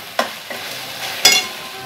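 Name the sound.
stirring prawn pulao in a frying pan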